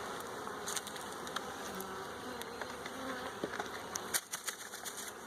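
A swarm of honey bees hums steadily up close, punctuated by scattered clicks and taps, with no voices.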